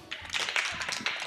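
An audience in a church children's program claps steadily, dense and close, a continuous patter of many hands with a few sharper slaps, filling the short moment without speech.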